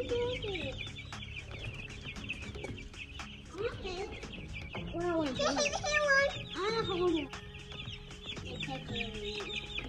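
Backyard chickens cluck steadily near the microphone, with a few louder squawking calls in the middle and people talking now and then over the flock.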